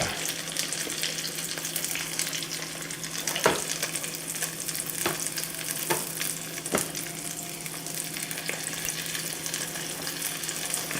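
Parmesan chicken fries in butter in a pan, a constant close sizzle with a few sharp clicks and scrapes as pieces are turned, no talking.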